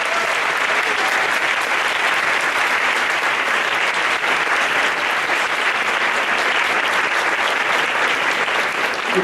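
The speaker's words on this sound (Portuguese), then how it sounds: "Peço a todos os alunos uma salva de palmas para a direção, a coordenação," Sustained, dense applause from students at an inaugural lecture for the architecture department at PUC-Rio, steady and loud throughout with no breaks, filling the room.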